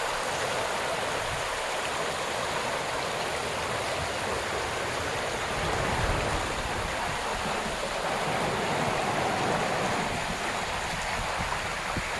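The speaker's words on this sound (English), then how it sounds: "There's our creek." A creek flows in a shaded spot, giving a steady, full rushing wash of water that stays even and close throughout with no break.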